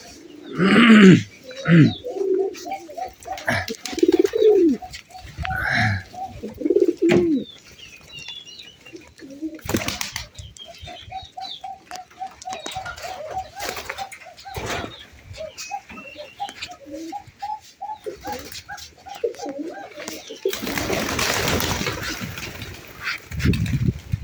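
Pet pigeons coo in repeated rolling bursts in a home loft, loud and close, with wing flaps and other bird calls mixed in and a noisy rustling stretch near the end.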